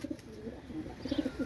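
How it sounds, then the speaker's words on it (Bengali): Pakistani Sakhi Teddy pigeons cooing softly nearby, a few low repeated coos clustered at the start and again near the end over quiet background hiss. "কবুতর পেয়ারটা দেখেন, এই সাকিরেডি মাস্টার পেয়ারটা মাত্র 3000 টাকা হলে নিতে পারবেন"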